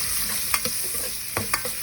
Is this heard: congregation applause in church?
no